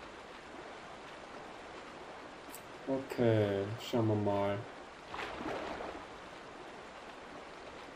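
River water flows steadily along the upper Zora river in the game The Legend of Zelda: Twilight Princess, a soft, continuous rushing bed with someone speaking briefly over it.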